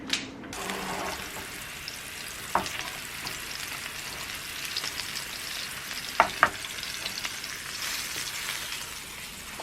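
A steak fries in a pan with paprika, giving a steady, close sizzle throughout, broken by a few soft clicks and taps of utensils.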